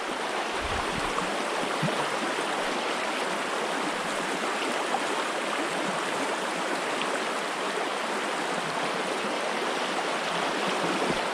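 A river flows steadily with a broad, continuous rushing and burbling, moderately close and unbroken, with no voices over the water.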